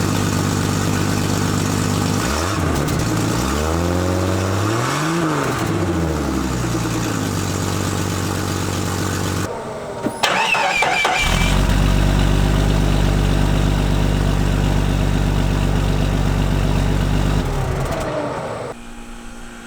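A 1998 Jeep Cherokee XJ with its stock exhaust runs steadily at idle, a continuous low rumble throughout, with a couple of revs midway and a brief dip and clunk around the middle before the idle resumes.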